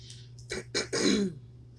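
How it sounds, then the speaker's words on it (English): A person clears their throat several times in quick, raspy bursts, close and distinct, with no speech. "Excuse me for clearing my throat so much."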